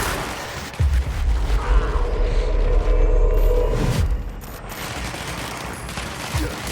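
Gunfire plays over rumble and booms in the video game Control, with the pistol among the weapons. Heavy, close blasts and a deep rumbling roll on for several seconds, then fade into lighter noise.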